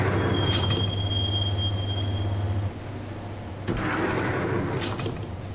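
A subway train ride in the video game Max Payne: a loud, steady rolling rumble with a sustained low hum and a thin squealing whine, then clanks and a shift in tone as the car rattles on.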